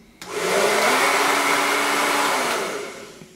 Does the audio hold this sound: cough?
no